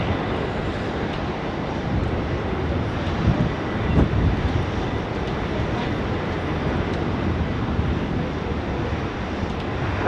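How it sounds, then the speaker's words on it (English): A Singapore Airlines A380 at Sydney Airport gives a continuous heavy rumbling roar of jet engines, steady and fairly loud, with slight surges midway. "I spy with my little eye a Singapore A380."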